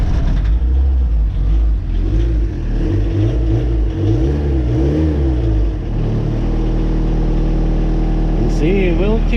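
Suzuki Samurai diesel engine turning over and running after the glow plugs are heated, a loud, close, rough low rumble that shifts pitch as it revs, with a person talking over it.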